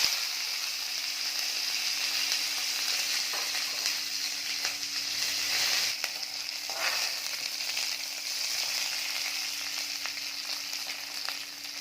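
Mustard seeds, fenugreek and onion fry in hot oil as a tempering for sambar, giving a steady, close crackling sizzle with occasional stirring scrapes throughout.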